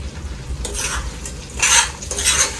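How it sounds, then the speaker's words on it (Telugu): A spoon scrapes and stirs through a pot of chicken pickle, giving a few short, wet mixing strokes up close with soft sizzling texture underneath. "చూడండి ఇట్లా మంచిగా కలుపుకోవాలి"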